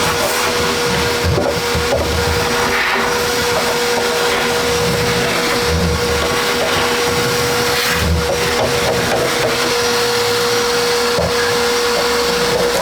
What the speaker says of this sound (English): I'm going to go ahead and vacuum out the fire pot